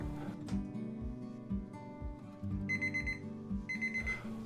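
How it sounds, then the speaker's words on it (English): A kitchen oven timer alarm rings after a chocolate gateau has baked. It gives a loud, steady run of repeated electronic beeping tones over a constant background hum, with no one speaking. "Set the timer for 30 minutes."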